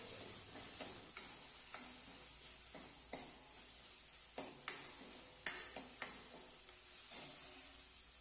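Carrot soup with turmeric being stirred in a pot, faint and close: scattered light spoon scrapes and taps against the pot over a quiet steady background, no talk.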